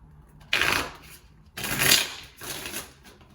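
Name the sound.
shuffling tarot cards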